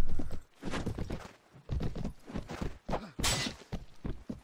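Horse hooves clip-clop in Mount & Blade: Warband during a battle, a series of fairly close, irregular thudding steps mixed with other game sounds and muffled clatter.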